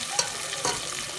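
Potatoes fry in a pan for an aloo palak gosht dish, a steady close sizzle with a couple of brief stirring scrapes.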